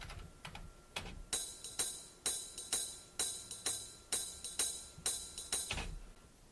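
A sequenced ride cymbal part with a 75% swing transform applied, so every other note falls late, giving a lopsided long-short pattern of bright metallic pings with occasional heavier accents, heard alone.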